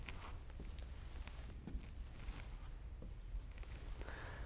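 Pen or marker scratching across paper while a cosine graph is sketched by hand, faint continuous scribbling strokes and taps with no speech.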